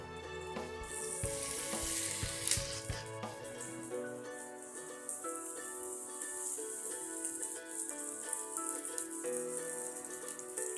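Crushed onion frying in hot oil in a pan for Kerala varattiya chammanthi: a steady, bright sizzle throughout, with a few scraping stirs early on and soft background music underneath.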